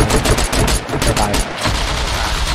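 Gunfire in the video game SCUM: loud, dense rapid shots crack in quick succession for a couple of seconds, like sustained automatic fire, with little pause between bursts.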